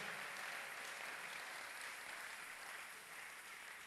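A church congregation applauding, a dense, steady wash of many hands clapping at moderate distance, sustained evenly throughout with no talking.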